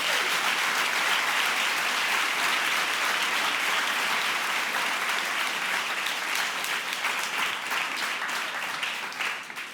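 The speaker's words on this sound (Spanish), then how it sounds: "dale un fuerte aplauso a Cristo Jesús" A church congregation gives loud, continuous applause, a thick unbroken roar of many hands clapping that holds steady for nearly ten seconds before easing off at the end.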